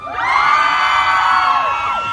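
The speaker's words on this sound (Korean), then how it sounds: "재밌으면 우리 한번 함성 한번 질러볼까요? 함성 시작!" Loud, high-pitched cheering and shouting from a large audience at a military base stage show, a sustained chorus of screams and whoops swelling quickly and holding for about two seconds before easing slightly.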